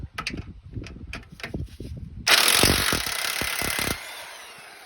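An impact wrench works bolts loose on a Toyota 4Runner, first in short rattling bursts, then one long loud continuous hammering run, close by in a garage.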